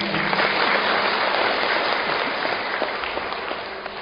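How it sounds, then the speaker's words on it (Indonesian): An audience at a talk claps steadily in a dense burst of applause lasting a few seconds, fading slightly toward the end. "aplaus buat Bapak Ibu"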